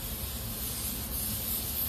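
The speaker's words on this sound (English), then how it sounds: "So we're going to spray our pan." Cooking spray from an aerosol can hisses steadily onto a pan, a continuous close spray lasting about two seconds with no talk.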